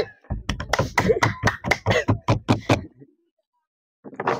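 A small group claps for Shova during a lychee eating challenge, a quick run of about a dozen sharp claps over three seconds, then a pause before a few more begin.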